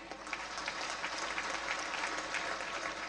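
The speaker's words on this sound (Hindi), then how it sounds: "ये बेटियों के लिए बहनों के लिए जोर जोर ताली हो जाए" An audience at a Lakhpati Didi gathering in Jaisalmer, Rajasthan claps for the daughters and sisters, a dense, steady applause from many hands that fills the whole moment.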